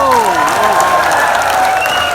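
Audience at a live comedy show breaks into a short, loud burst of applause mixed with crowd voices.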